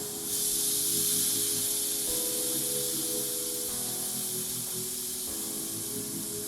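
Pork ends searing in a pan over medium-high heat, a steady loud broadband sizzle and hiss running throughout with no talk, while faint low tonal hum and clatter sit underneath.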